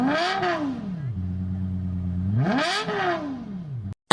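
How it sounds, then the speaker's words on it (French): A car engine revs up and drops back twice, rising and falling in pitch with a steady idle between, loud and close, cutting off abruptly at the end. "Une voiture dit vroom vroom."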